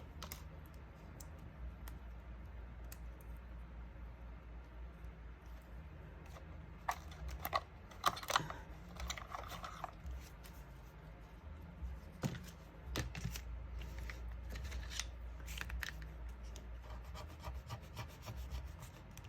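A scratch card scratched with a coin or fingernail: quiet, intermittent scraping and rubbing strokes in short bursts, close up and alone in a calm room.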